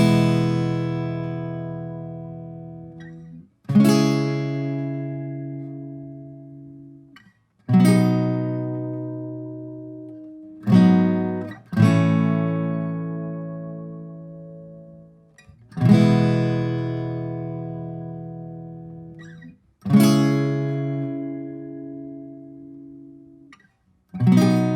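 Acoustic guitar strumming the chord progression of a song, about seven slow, full chords, each struck firmly and left to ring out and fade before the next, close and alone.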